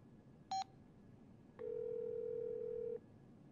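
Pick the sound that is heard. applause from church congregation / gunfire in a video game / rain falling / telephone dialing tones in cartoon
telephone dialing tones in cartoon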